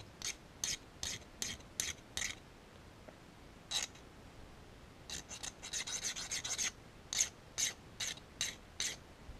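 Metal file deburring lathe soft jaws for an EMCO chuck, pushed in repeated short rasping strokes, evenly spaced then quicker, close and clear with no talk.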